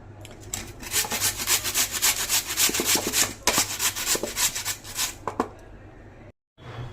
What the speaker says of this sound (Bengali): এবার একটা এরকম গ্রেটার নিয়েছি, এর ঠিক এই অংশটা দিয়ে আলুগুলোকে ঘষে নেব।